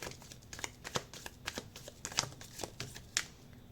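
Tarot cards being shuffled by hand, quick crisp riffles and flicks in an irregular rhythm, close and fairly quiet with no talking.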